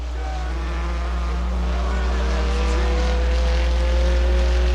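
Stock cars racing on the oval at Butler Motor Speedway during a Friday night feature, a loud, sustained engine roar that builds slightly, with several overlapping motor tones and an announcer talking over it.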